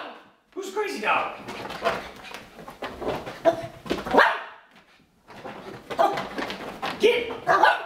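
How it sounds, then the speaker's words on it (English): Excited indoor barking from a dog chasing a laser pointer near a couch, repeated loud barks and yips in bursts with a short pause mid-way, overlapping a person's talk. "Crazy dog. Crazy dog."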